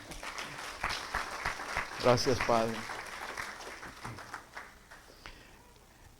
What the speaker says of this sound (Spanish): Vamos a darle un aplauso más, ¿por qué no?